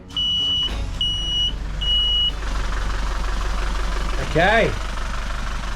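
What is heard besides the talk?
yacht engine starting and running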